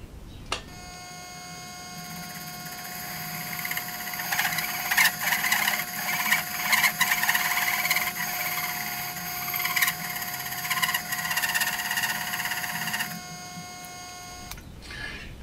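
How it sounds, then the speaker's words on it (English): An import annular cutter bores a hole in a simple tailstock setup, giving a steady high whine with shrill harmonic tones and a grinding edge that swells and wavers before stopping abruptly near the end, with no talking. "This is an import annular cutter, bit of an experiment."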